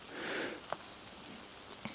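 A Fuji GFX medium format camera with a 70mm lens fires its shutter, a single crisp mechanical click with a second short clack after it, up close in a quiet setting.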